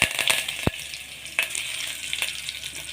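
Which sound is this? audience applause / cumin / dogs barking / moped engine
cumin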